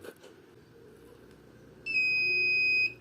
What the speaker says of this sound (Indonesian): nanti alarm dari buzzernya akan berbunyi seperti itu